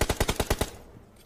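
Rapid burst of about seven M4 rifle shots in PUBG, evenly spaced and loud, cutting off after well under a second with a short fading tail and no talking.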